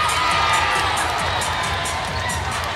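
Crowd cheering and shouting in a gym at a 3A North Region girls basketball championship between Page and Window Rock, a loud, continuous roar of voices and whoops with scattered higher shouts.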